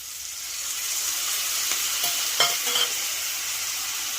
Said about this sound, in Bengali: এগুলোকে আমি কষিয়ে নেব ভালো করে